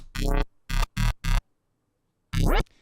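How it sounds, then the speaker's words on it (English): A synthesized glitch hop bass tone in five short bursts, buzzy and harmonically rich with rising sweeps, pulsing in a broken rhythm with silent gaps between, loud and close, with no effects applied. "I was going to generate some sort of a bass tone"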